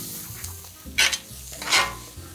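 Garlic hits a hot pan, and two bright bursts of crackling sizzle rise over a low kitchen hum, close by and short, with no talking.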